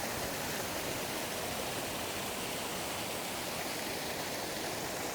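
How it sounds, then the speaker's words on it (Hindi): Water pouring steadily from the mouth of a dog statue in a downtown Toronto park fountain, a constant, even splashing rush with no breaks. "देखें कुत्ते के मुंह से पानी आ रहा है।"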